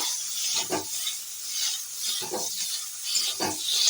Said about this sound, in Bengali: দেখুন বেগুনগুলো আমি লাল লাল করে ভেজে নিচ্ছি